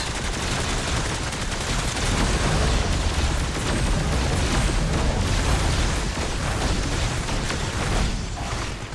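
Rocket Raccoon's big gun firing in the Marvel Heroes Omega video game, a dense, continuous barrage of loud gunfire and explosive booms that roars without pause from start to finish.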